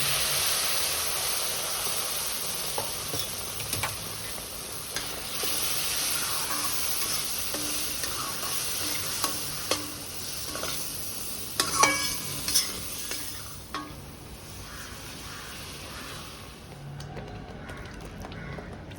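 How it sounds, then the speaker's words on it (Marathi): Semolina halva with cashews frying in a pan as milk is poured in, producing a steady close hiss and sizzle with intermittent spoon scrapes and clacks, fading toward the end; no talking. "आता मी यात दूध घालते सगळंच दूध आपल्याला एकदम घालायचं नाहीये थोडं थोडं करत आपण दूध घालूया"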